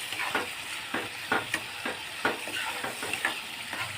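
Tomatoes fry in a pan for Gujarati eggplant bharta (ringan no olo). An even sizzle runs beneath rhythmic stirring scrapes that come roughly every half second.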